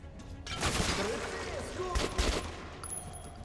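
Rapid bursts of gunfire in the game Metro 2033 Redux crackle in quick succession, fairly loud and close, with a second cluster of shots after a short pause.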